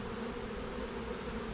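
Nurse bees crawl and hum inside an open beehive, a dense, steady, faint buzzing drone with no other sounds.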